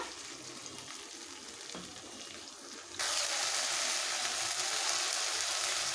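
Tomato paste sizzling as it hits hot oil while cooking Bengali katla kalia, a close, steady frying hiss that jumps sharply louder halfway through and stays loud.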